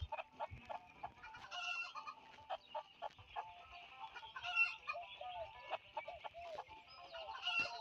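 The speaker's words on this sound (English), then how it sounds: "that chicken just ran into me." Video game chickens cluck repeatedly in quick, overlapping bursts, a busy flock sound that carries on throughout at moderate volume.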